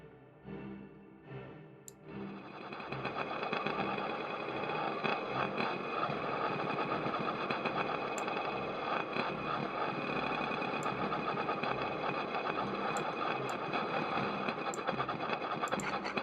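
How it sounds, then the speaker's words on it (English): A lid spin-down field recording run through the SpaceCraft granular synth, turning into a dense, droning, shimmering texture that swells after a quieter two-second start and holds steady and loud to the end. "Oh, lid spin down might be fun."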